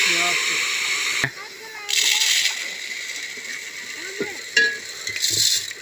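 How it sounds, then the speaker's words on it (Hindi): Water goes into a pot of frying basmati rice pulao cooked outdoors in a village, the sizzle turning to bursts of hissing splatter and sloshing, with someone talking over it. "अभी जाएगा इसमें पानी"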